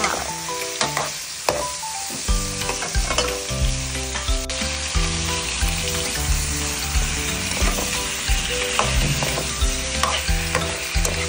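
Chicken pieces for tinolang manok sautéing in their own rendered fat in a pan, with a steady loud sizzle and repeated scraping clinks of a spoon stirring throughout, no talking.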